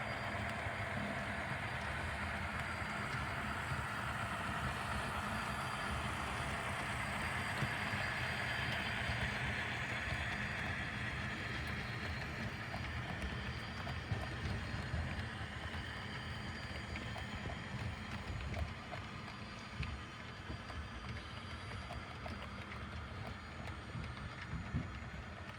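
An HO scale model BC Rail train runs along a layout with a steady, low mechanical rumble and hum that continues evenly, quiet and close, with no talking.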